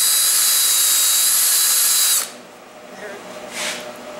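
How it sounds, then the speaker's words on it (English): A power drill whines steadily for about two seconds while tapping threads in metal, then cuts off, leaving quiet room noise and a brief hiss near the end. "Now, let's do some tapping."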